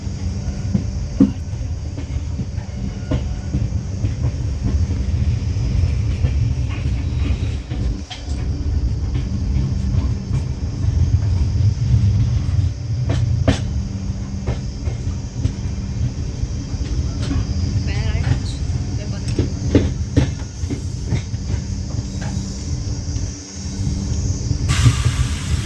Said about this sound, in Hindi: पहला ओवरटेक हमने मार दिया है ऊंचाहार एक्सप्रेस को, और वो भी ऊंचाहार में मारा है।